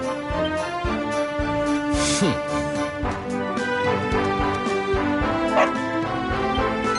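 Dog barking in the video game Dragon Quest XI, a few short yips and bow-wows over continuous game music, moderately loud.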